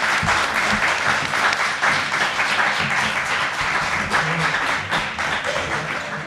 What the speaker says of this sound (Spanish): vamos a hacer un aplauso enorme a Ricardo